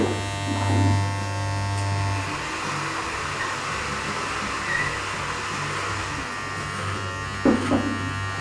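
Electric trimmer buzzing steadily at close range while a barber works the front section of a client's beard, a continuous motorized drone with small shifts in pitch as the blades move through the hair.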